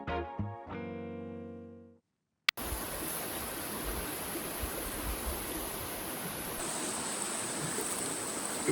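A flowing creek rushes steadily and close by, a continuous broadband wash that starts after a few seconds of tonal music and a brief silence, then runs unbroken to the end.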